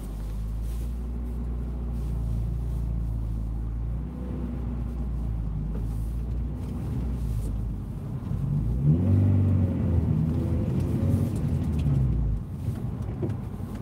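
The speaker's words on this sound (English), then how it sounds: "this idle is really breaking in nice" A car engine idles steadily at about 900 rpm near the microphone, a low continuous rumble with a slight blip partway through; no one speaks.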